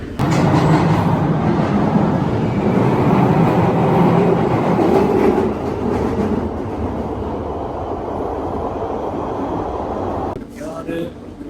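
A London Underground Northern Line train runs with a loud, steady rumble and rattle at close range, easing slightly partway through. Brief clicks sound near the end.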